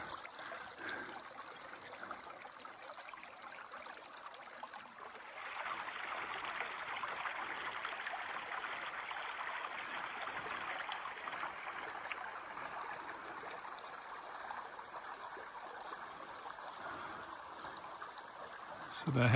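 The Howqua River runs low in mid-May, a shallow stream trickling and gurgling steadily nearby, its soft rush swelling slightly partway through with no voices.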